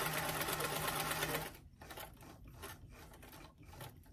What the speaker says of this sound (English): Starting at the hem edge, just go ahead and sew all the way up to that pin.